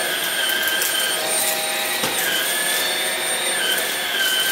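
JIMMY JV85Pro cordless vacuum cleaner runs on its lowest eco mode with a steady, even whine and airy hiss. A brush drags over a rug, and the tone stays constant throughout.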